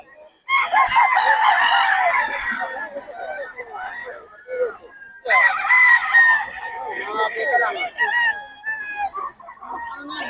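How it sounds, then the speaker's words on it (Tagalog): A gamecock rooster crows loudly and close by, two long drawn-out calls separated by a pause, with softer clucking and other fowl sounds around them. "Pero ito Pai ko na, manok ni Boss Roy."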